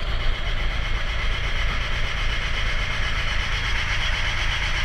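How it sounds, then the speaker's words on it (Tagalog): A Toyota Altis with a hard-starting fault and a high idle runs at a steady, loud, rough idle up close, a constant mechanical drone with no cranking or talking audible. "Sobrang hard starting mga boss."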